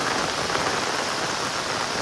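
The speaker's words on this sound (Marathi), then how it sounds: "आज खूपच पाऊस लागला आहे, बघू शकता माझ्या मागे" Heavy monsoon rain pours steadily over a flooded road, a dense broadband hiss of drops drumming on surfaces, loud and unbroken throughout with no voices.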